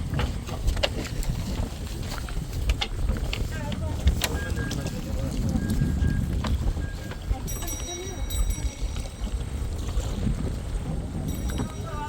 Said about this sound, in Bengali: ছোট এই ট্রলারটি পঁচিশ জন যাত্রী নিয়ে আসছে